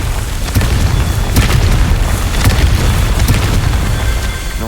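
A Confringo spell in Hogwarts Legacy bursts into a loud, deep, rumbling explosion that fills the whole few seconds with heavy low boom and crackling debris, with no speech over it.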